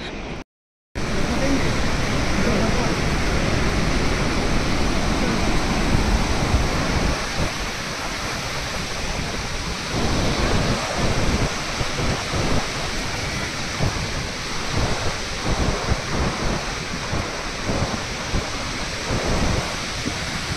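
The Saraswati river roars near Bhim Pul in Mana village, Uttarakhand: a loud, dense, continuous rush of fast water, with a voice speaking faintly over it.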